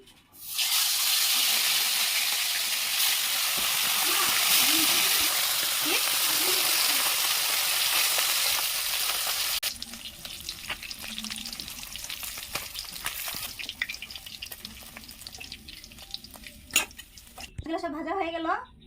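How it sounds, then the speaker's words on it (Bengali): Pieces of fish hit hot mustard oil in a pan and fry with a loud, dense hissing sizzle that later breaks into crackling spatter and clatter, with speech heard over the cooking. "সর্ষের তেল দিয়ে দিচ্ছি মাছগুলো দিয়ে দিচ্ছি"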